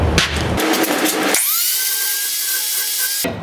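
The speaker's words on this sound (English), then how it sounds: "I'm going to go ahead and grind this stuff down and clean it up." Grinding down excess weld on a steel bracket for a Honda CB500F scrambler build: a close, loud grinder whine that spins up to a steady high-pitched tone after a rough, scraping start, then cuts off.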